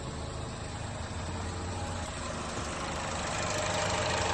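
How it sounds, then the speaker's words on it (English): A 2020 Chevy Trax engine idles steadily nearby, a continuous low rumble with an even mechanical hum and no voices. "And we'll go ahead and look at the engine."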